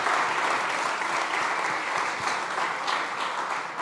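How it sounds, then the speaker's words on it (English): At a food summit, an audience applauds a panel with continuous, evenly dense clapping from a large crowd, steady in level from start to finish. "Please give this round of panelists a round of applause."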